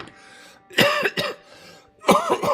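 Three harsh coughs close to the microphone, two in quick succession and a third after a short pause, with a quiet room behind.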